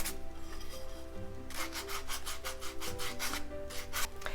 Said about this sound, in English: So you can just use a brush to wipe away the dust